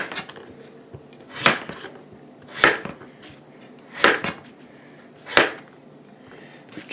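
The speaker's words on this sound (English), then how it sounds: "I'm just going to take my knife and cut off the peel" A knife slices the peel off a butternut squash on a cutting board, giving four distinct, evenly spaced scraping cuts close by, with quiet pauses between them.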